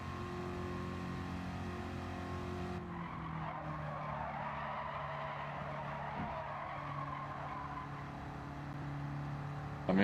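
Race car tires skid and squeal in Gran Turismo 7, a sustained engine drone with a tone that shifts partway through as the car slides under power.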